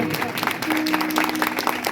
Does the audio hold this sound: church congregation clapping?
yes